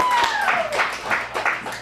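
Audience at a youth improv showcase claps for performers, quick scattered handclaps building into a short round of applause, with a voice briefly audible over it.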